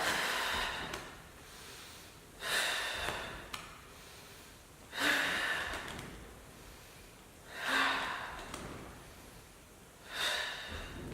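Slow deliberate breaths in and out during Pilates rollover preps, four or five soft airy exhales evenly spaced a couple of seconds apart, close and quiet with no speech.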